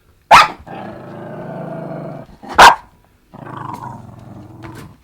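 A dog growls in long, low rumbling stretches, broken by two sharp, loud barks close to the microphone, with no talking.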